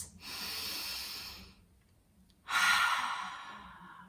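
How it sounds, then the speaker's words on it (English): Two slow, deep breaths taken close up during a calm meditation, each a long airy inhale or exhale with a soft pause between them, no talking. "Let's just take a few deep breaths."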